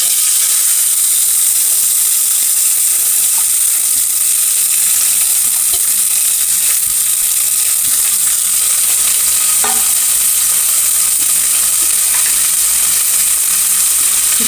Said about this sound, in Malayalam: അരിഞ്ഞ് വെച്ച അച്ചിങ്ങാപ്പയറും സവോളയും പച്ചമുളകും കൂടെ ചേർത്ത് കൊടുക്കണം.